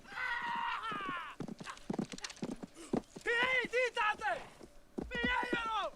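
Horse hooves clip-clop in a scene from the 1990 film Dances with Wolves, a loose run of soft thuds mixed with a whinny and voices talking over them.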